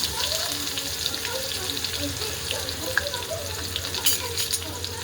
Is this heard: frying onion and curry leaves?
yes